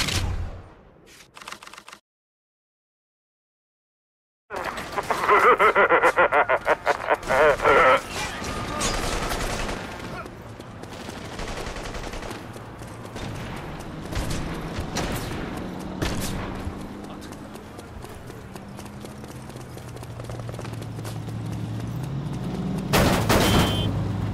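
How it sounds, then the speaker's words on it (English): Gunfire in The Saboteur video game: after a brief silent gap, rapid bursts of automatic fire crackle loudly, then scattered shots continue over rumbling game noise and low engine-like drones. "The shooting started."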